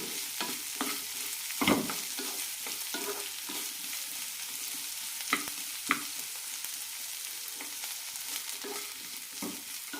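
Capsicum sautéing in a pan for chutney, a steady broadband sizzle with occasional scrapes and clicks of a spatula stirring, fairly close and even throughout.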